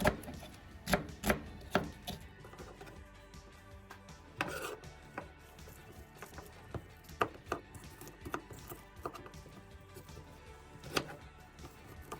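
A knife chops an onion on a cutting board in a home kitchen, giving sporadic sharp taps and knocks at an uneven pace over a faint background, with no voices.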